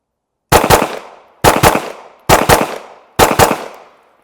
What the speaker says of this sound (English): I'm gonna shoot 4 more pairs, 8 shots, and then start go stop right away.